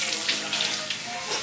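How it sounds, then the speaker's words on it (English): Hands being washed under a running tap at a sink, a steady close hiss of flowing water with small splashy fluctuations, no talking. "So you're gonna wash your hands with water, of course."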